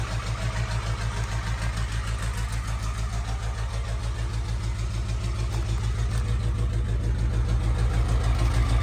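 An engine runs roughly at idle with bad fuel and air in its lines, a loud, close, uneven throbbing that pulses steadily and swells slightly toward the end, with no talking.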